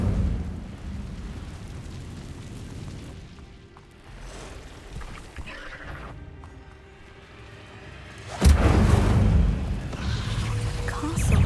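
Incendio fire spell cast in Hogwarts Legacy: a muffled rumbling build gives way to a sudden loud whooshing fiery burst that keeps roaring, close and alone without talk.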